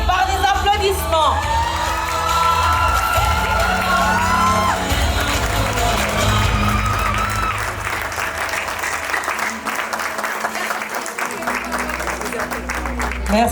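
Wedding guests break into loud applause and cheering, with whoops and shouts mixed into a dense crowd roar that keeps going and thins slightly toward the end.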